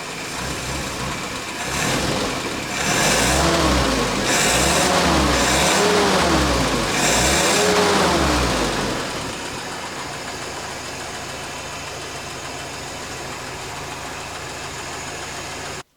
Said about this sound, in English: it's idling happily, it's revving happily.